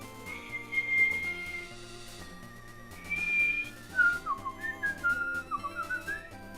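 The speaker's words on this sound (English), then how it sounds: "The way you whistle is curling your tongue against your bottom teeth" A person whistles a melody with the tongue curled against the bottom teeth, clear sustained notes giving way to a quicker run of short warbling tones, close and alone with no talk.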